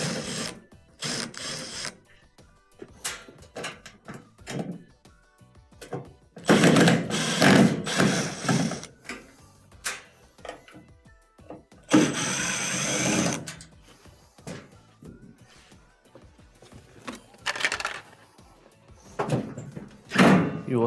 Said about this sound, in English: we have a couple of Phillips screws in the front that'll need to be taken off